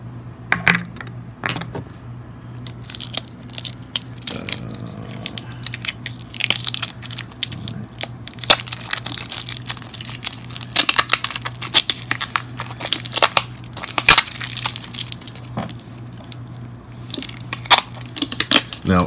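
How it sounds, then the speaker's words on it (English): Packing tape popping and crackling as a 25 lb drum of Egyptian musk perfume oil is opened by hand, close-up, with repeated sharp snaps and crinkles over a steady low hum. "You can hear the tape popping."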